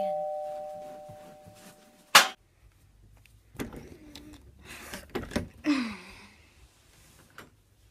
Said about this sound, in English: The doorbell rang, I think.